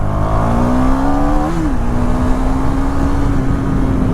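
A KTM Duke 390 BS4 motorcycle, with a lightweight high-compression single-cylinder engine, revs up close and loud, then holds a steady, buzzing drone.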